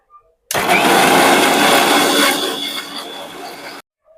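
A mixer grinder whirring loudly close by as it grinds a masala of tomato, ginger, chilli and salt, starting abruptly, running steadily for about three seconds and then cutting off.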